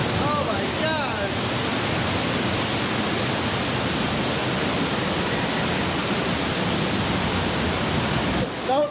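A large rush of water at the Denver Downtown Aquarium, a loud, steady broadband roar that fills the whole span, with a brief exclaiming voice near the start.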